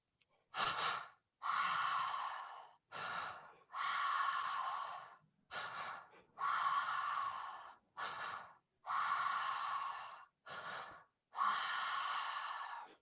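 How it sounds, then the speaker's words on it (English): Deep breathwork breathing, each long inhale filling belly then chest and released out through the mouth, a steady series of about ten loud, close breaths with short pauses between, no talking. "breath out through the mouth. Belly, chest, out through the mouth. Continuing that breathing pattern."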